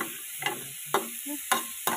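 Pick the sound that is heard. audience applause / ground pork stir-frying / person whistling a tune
ground pork stir-frying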